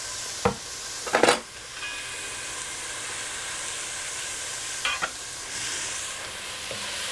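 Chorizo frying in olive oil in a pan, a steady soft sizzle throughout broken by a few brief louder clatters of stirring, close and with no talking.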